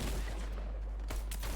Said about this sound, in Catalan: Tothom aquí fotent-se trets